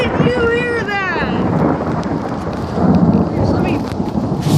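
Thunder rolls and rumbles through a windy thunderstorm with steady heavy rain, loud and continuous; a voice briefly whoops at the start.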